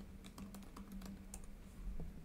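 Computer keyboard typing while writing Java code, a steady run of quick, fairly soft key clicks close by, with no talking.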